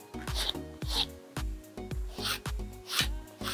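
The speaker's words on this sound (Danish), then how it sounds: "og lige så stille og forsigtigt file de små rester" A nail file rasps in quick, regular back-and-forth strokes, close and fairly loud, as it takes the last remnants of an artificial nail off the natural nail. Roughly seven strokes come in an even rhythm with a sharp scrape on each pass.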